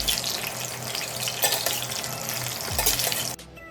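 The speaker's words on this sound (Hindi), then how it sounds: "अब इधर तेल भी गर्म हो गए हैं तो इसमें सारे बैंगन एक एक करके डाल दी।" Eggplant pieces dropped one by one into hot oil fry with a loud, steady crackling sizzle that fills the whole stretch, a few louder spatters and a brief low clunk near the end before it cuts off.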